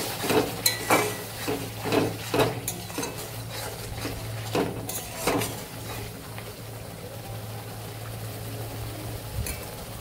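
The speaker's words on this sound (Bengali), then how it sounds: "এবারে আমি মিক্সি ধোয়া জলটা দিয়ে দেব।" Spice masala frying in oil in a home kitchen, with water from rinsing the mixer grinder poured in: a few sharp spoon scrapes and clatters at first, then a steady, close hiss of sizzling.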